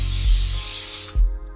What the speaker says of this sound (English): Once you're happy, spray it in. I like dusting a hairspray